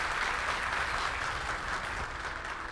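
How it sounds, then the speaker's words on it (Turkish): Steady, even applause from an audience at a Turkish Mevlid recitation competition, continuous clapping from many hands that fades only slightly toward the end. "Ve güçlü alkışlarınızla birincimizi uğurluyoruz efendim."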